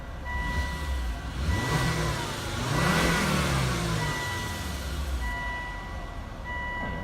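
A Volvo S60 turbo, running with fuel issues after a control module swap and ECU reset, idles and then revs up and back down in a single swell, with intermittent reversing-style beeps chirping over the engine.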